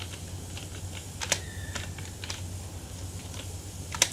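Laptop keyboard keys are tapped in short irregular bursts, close and clear, a few sharper clicks standing out, with no voice over them.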